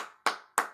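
Two sharp, loud hand claps about a third of a second apart, each ringing briefly before fading, with no talk over them.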